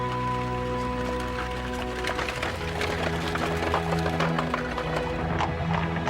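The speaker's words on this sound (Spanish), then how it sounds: "Estas pesadas diligencias se balanceaban y traqueteaban por los caminos de Gran Bretaña a solo 15 kilómetros por hora." A horse-drawn stagecoach on the roads of Britain, its hooves clip-clopping in a steady, continuous rhythm over a sustained musical backdrop.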